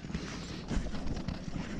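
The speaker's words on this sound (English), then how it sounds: "It's going to be like a mile horse ride" Horse hooves clip-clopping on a trail ride at Petra, Jordan, a steady close walking rhythm of hoof strikes over outdoor background noise.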